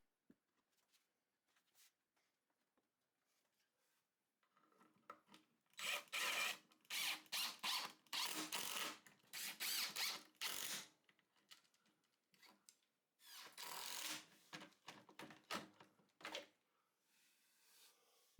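A drill drives screws through pocket holes to join a 2x4 wood build to a 1x4 support, coming in several bursts of whirring with short pauses between them.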